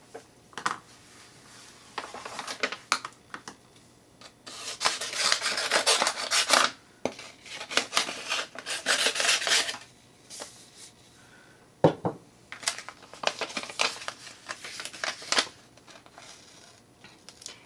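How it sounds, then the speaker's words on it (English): Scissors fussy cutting around a stamped paper flower for a watercoloured card, heard as close, repeated rasping snips and slides that come in bursts with short pauses between them and no talking. "And I'm going to fussy cut this."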